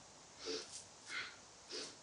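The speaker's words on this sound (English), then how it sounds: "It's just a forceful exhale." Three quiet, forceful exhales through the nose, breathy puffs spaced evenly with soft pauses between.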